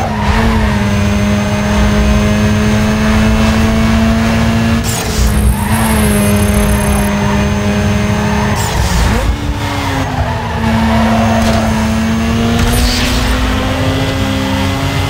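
A street race car in the video game Need for Speed Underground 2: a steady, loud engine drone with long tire squeals and skids that continue throughout, running without a break.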